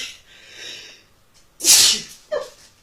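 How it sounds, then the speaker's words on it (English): A single loud, sharp sneeze bursts out after a quiet breathy lead-in, followed by a brief softer sniff or exhale. "Oh, I'm definitely going to sneeze."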